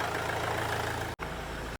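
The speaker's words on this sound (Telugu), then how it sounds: "సో చూసారా ఇంజిన్ రన్నింగ్లో ఉంది." Rebuilt engine of a Mercedes-Benz C-Class W204 idles steadily, a faint even hum held at a constant pitch, with two brief dropouts in the sound.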